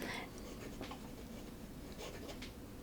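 A Wancher fountain pen scratches across paper in soft, short strokes, faint and close, with a few brisk bursts of nib friction over a quiet room hiss.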